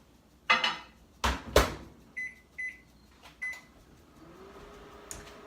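A microwave oven melting butter for homemade cinnamon bread, with a door clunk and rattles, then a few short electronic beeps from the keypad, then a low steady hum as it runs, fairly close in a quiet kitchen.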